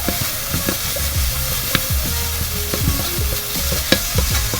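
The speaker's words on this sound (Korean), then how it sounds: "고춧가루 어, 타지 않게 잘 볶아주셔야 되고" Chili powder is stir-fried in oil for jjamppong, a loud, close sizzle broken by brisk scraping and clinking from the stirring utensil.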